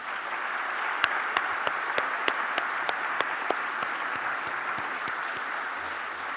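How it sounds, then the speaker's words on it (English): Sustained audience applause fills the hall at an evening with Christo, a dense steady wash of many hands with a few sharper individual claps standing out, even in level throughout. "Please give them a big round of applause."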